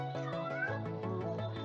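Cat meowing, a long drawn-out wavering meow followed by shorter repeated meows, close and clear, with no talk over it.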